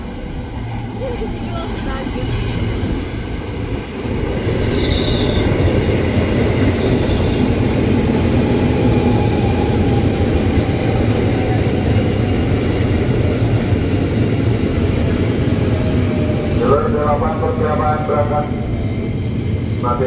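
An electric KRL commuter train to Bogor, twelve cars long, rolls into Manggarai station's upper level with a loud, steady rumble of wheels on rails, metallic squeals rising near the end, and faint announcements in the background.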